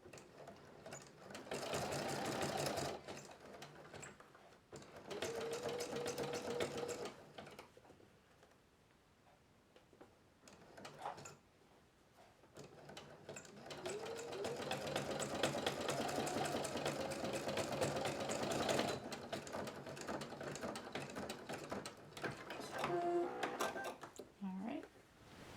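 Sewing machine stitching along the collar seam of a small plush button-up shirt, running in several bursts of steady mechanical whirring and ticking, with pauses and a voice talking between and over the runs.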